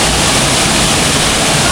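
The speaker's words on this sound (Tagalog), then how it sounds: "Ito yung falls dito sa ano sityo namin." Waterfall in a remote mountain village, its rushing water pouring loudly and continuously with a dense, unbroken roar close by.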